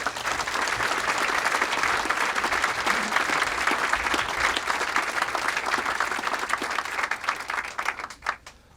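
An audience applauds to welcome economist Joseph Stiglitz onto the stage, steady dense clapping from a large crowd that holds for several seconds and then thins out and fades at the end.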